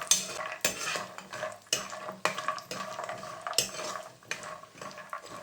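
Almonds and then cashews roast in a pan over a moderate gas flame while a spoon stirs them. Irregular metallic scrapes and clinks repeat every half second or so, close and fairly quiet.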